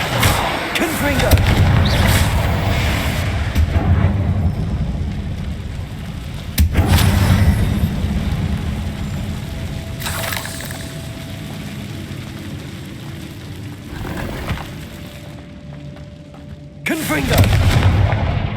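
Booming fire spell blasts in the video game Hogwarts Legacy, several heavy explosive hits spaced through a loud combat scene with rumbling debris and a spoken voice now and then.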